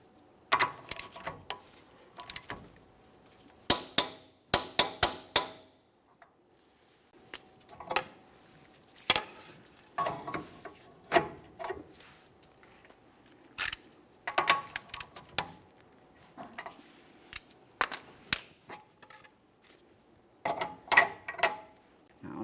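Torque wrench tightening a rear hub bolt on a 2017-2024 GMC Acadia, producing close, sharp clicking bursts in irregular clusters separated by quiet pauses.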